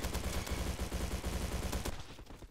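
Rapid automatic gunfire from a Sten submachine gun in the online shooter game Bad Business, a dense unbroken burst of close shots that tapers off near the end.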